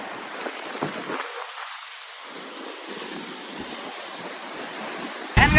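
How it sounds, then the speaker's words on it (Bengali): Steady broadband rush of a waterfall and fast-flowing mountain stream, dense and continuous at close range with no voices, ending in a brief louder burst. "ওয়াটারফলটা দেখো কত সুন্দর"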